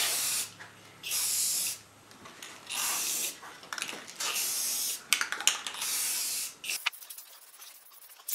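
Short bursts from an aerosol can of Ultra Cover Matte Clear coat misting over wooden sign boards along their edges: about five close hissing sprays separated by brief pauses, then quieter rustling handling noise.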